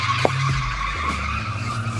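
A car skids hard as its handbrake is tested, a harsh tyre scrape lasting about two seconds, loud and close with engine rumble beneath and no talk.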